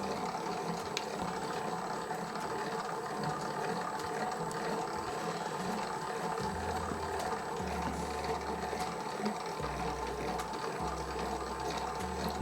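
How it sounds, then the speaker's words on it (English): A stand dough mixer kneads pizza dough on speed 2 with a continuous mechanical whirring and ticking, moderately loud and steady, with a low periodic thumping coming in toward the end. "I've slowed the mixer down now, so it's on number 2."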